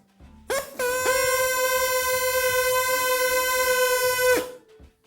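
A drinking straw flattened into a reed and blown hard screams with one loud, steady, buzzy, horn-like tone. It starts abruptly, holds for about four seconds, then cuts off.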